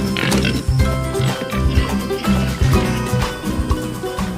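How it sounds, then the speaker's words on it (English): Large Black pigs grunt and oink up close, loud and repeated in a rough, uneven rhythm throughout, with no clear talk over them. "they are just the most magnificent pigs"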